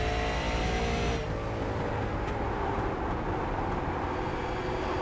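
Super late model race cars with Toyota Camry and Ford Mustang bodies roaring around a short track in iRacing, a loud steady engine drone that dips slightly partway through, with no talking.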